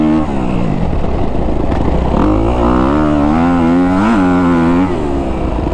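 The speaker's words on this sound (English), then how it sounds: "But really this bike likes to be revved" A Kawasaki KX250F dirt bike engine revs hard and loud up close, its pitch climbing and falling through several sharp throttle blips over a steady high-rpm drone, with no talk.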